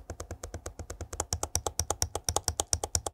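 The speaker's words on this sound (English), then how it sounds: "Some keys are very loud, particularly the backspace key," Loud laptop keys on an HP Omen Transcend 14 gaming laptop being pressed in a quick, steady run of about two dozen crisp clicks, close and alone with no talk.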